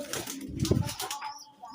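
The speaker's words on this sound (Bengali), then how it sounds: "আর এটা একটু বাচ্চা পায়রা" Pigeons cooing, including a young pigeon among newly acquired birds, give a low throaty coo that swells near the middle of the short stretch, with faint rustling around it.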